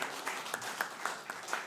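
Scattered, thin clapping from an audience at a meeting, with separate claps sounding at a steady, unhurried rhythm throughout.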